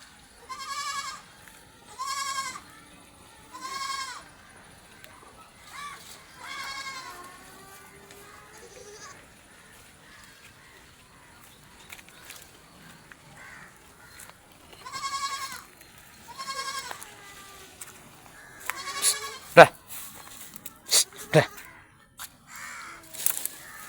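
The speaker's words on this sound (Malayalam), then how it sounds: "ഒറിജിനൽ മലബാരി ആടിൻ്റെ കുട്ടികളാണ്" Young Malabari goat kids bleating repeatedly in short, wavering cries, some close and some farther off, with quiet gaps and a few sharp knocks near the end.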